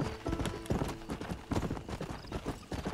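A horse in the Red Dead Redemption video game clops along in quick, close, irregular hoofbeats, with a short whinny mixed in.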